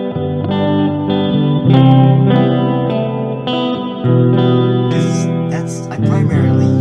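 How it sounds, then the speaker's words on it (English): Electric guitar chords ringing out with heavy reverb, each strum blooming and lingering, a few sharper picked notes near the end, no voices. "Let's hear that reverb."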